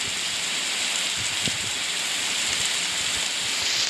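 Rain falling in the Roblox game Dead Rails, a steady dense hiss of downpour that stays even and continuous, with no voices over it.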